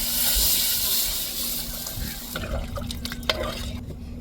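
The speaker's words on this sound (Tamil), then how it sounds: "புளி தண்ணியை புளியை ஊற்றியாச்சு." Tamarind water is poured into a simmering fish curry, a steady liquid splash and pour for a few seconds, followed by quieter drips and stirring clinks.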